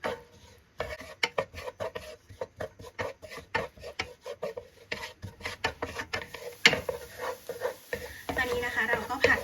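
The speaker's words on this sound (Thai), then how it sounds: "แล้วก็ผัดไปเรื่อย ๆ ให้เขาหอมเลยนะคะ" Chopped chili, garlic and coriander root stir-fried in oil in a pan, with steady scraping and clinking of a utensil against the pan in a quick repeated rhythm and a rising sizzle, close and prominent throughout.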